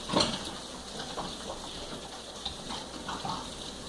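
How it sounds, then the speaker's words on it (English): A spatula is rinsed under a running kitchen tap: a brief gush of water at the start, then soft splashing and patter as the utensil is turned under the stream, fairly quiet with no talking. "Rinse the spatula off."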